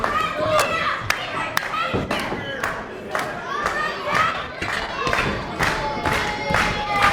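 A wrestling crowd at an EWA heavyweight title match chants and cheers loudly, with rhythmic shouts, youthful voices and sharp thuds and slaps from the ring punctuating the steady din.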